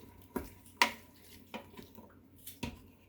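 A spoon stirs a blueberry jam mixture with pectin in an Instant Pot, making sparse, sharp clinks against the pot at irregular intervals, quiet between strikes.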